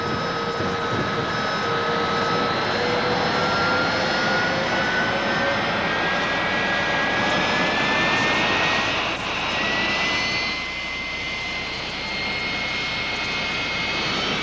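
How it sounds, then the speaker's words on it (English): Jet dragster cars start up at a raceway, their turbines building into a loud, sustained whine and roar with rising, whistling tones that hold steady before easing slightly near the end. "give you some idea of the sound and the power and the excitement generated by these jet cars"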